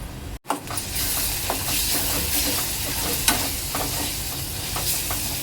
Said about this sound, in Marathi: मसाले 2 ते 3 मिनिटं तेलावर परतून घ्यायचे आहेत।